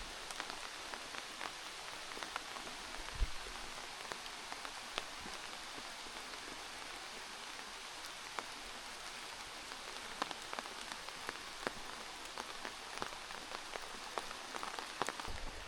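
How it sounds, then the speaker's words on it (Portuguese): Steady rain falling at a campsite, a dense even patter of drops on surfaces with occasional louder individual drips and taps, continuous and without talk. "Esperar passar essa chuva"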